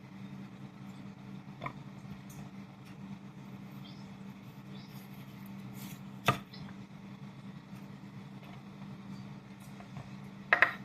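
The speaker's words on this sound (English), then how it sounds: "I'm on pretty much julienne these." A knife julienning vegetables on a cutting board for omelets: a few sparse, sharp strikes spread over about ten seconds, close by, above a steady low hum with no talking.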